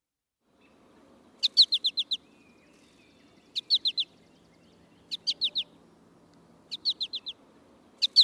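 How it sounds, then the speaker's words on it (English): Bright, rapid American goldfinch calls in short bursts of four or five quick notes, repeating every second or two over a faint low hum. "That is the American goldfinch."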